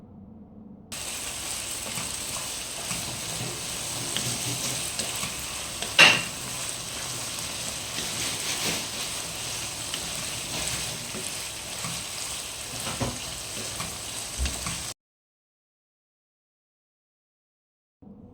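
Ginger garlic paste with turmeric and salt being stirred in a frying pan for spicy chicken curry, a steady close sizzle with scraping stirs and one sharp clink of the spoon against the pan partway through.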